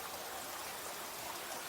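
Water runs through a rock grotto on a property near Zion National Park, a steady, faint, hissing trickle that flows on without a break.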